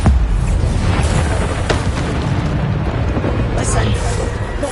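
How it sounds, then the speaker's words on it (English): A Bombarda spell explosion in the game Hogwarts Legacy sets off a loud, dense rumbling blast that fills the clip, with lingering low booms and crackling debris under the continuous din of combat. "Bombarda."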